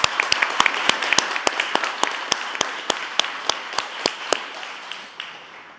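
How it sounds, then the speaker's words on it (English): An audience at a White House Recovery Month Summit claps in a slow, steady unison rhythm of about a dozen sharp, evenly spaced claps that fade at the end, heard alone. "That clap was for your energy."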